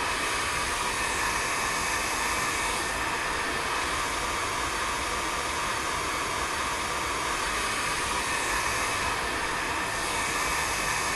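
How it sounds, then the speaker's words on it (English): A heat gun welding a roofing seam in a VR roofing training module gives a constant loud broadband hiss that runs unbroken for the whole stretch. "Slowly pull the heat gun along the seam."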